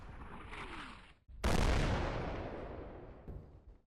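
Loud close infantry fire bursts out in Combat Mission: Black Sea, giving one sharp blast that rolls into a long booming decay. A quieter rumble comes before it and a fainter report follows, with no voices.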